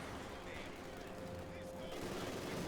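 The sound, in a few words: gunfire from shock troops in video game Company of Heroes 2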